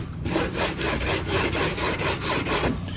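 A sanding block is worked over a Ferrari F8 body panel, producing loud, close, rhythmic rasping strokes in a steady back-and-forth of about eight passes.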